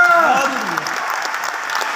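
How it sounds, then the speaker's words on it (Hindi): An audience at a gathering breaks into steady, dense applause that carries through the whole stretch, with a voice trailing off at the start over the clapping. "एक बार आईएमसी के लिए जबरदस्त ताली बजना चाहिए।"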